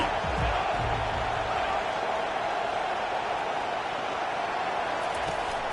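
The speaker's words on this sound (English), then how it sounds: "Decibels rising as the crowd gets behind this defense on third down." Video game crowd noise in an NCAA football game, a steady loud roar of stadium fans on third down that holds level throughout with no talk over it.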